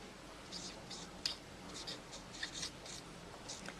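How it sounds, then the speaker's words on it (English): Pen or marker writing out a maths factorisation equation, faint scratchy strokes in short bursts under quiet room tone, with a voice murmuring softly at moments. "So let's write that."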